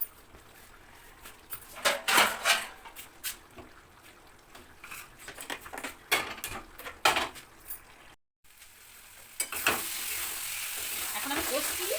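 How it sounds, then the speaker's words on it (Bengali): Red chilli and spices sautéing in oil for mutton curry, with repeated close scraping stirs over a crackling sizzle; after a brief silent break, a steady, louder hiss of frying continues. "এখন আমি কষছি"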